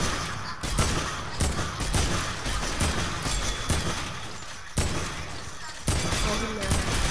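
Rapid gunfire at a shooting range rings out in repeated loud, sharp bursts, some in quick clusters and others spaced apart, with brief gaps between volleys.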